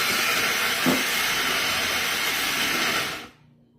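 A blender or grinder whirs loudly and steadily as it grinds ingredients for pumpkin peanut butter dog treats, then shuts off and fades out near the end.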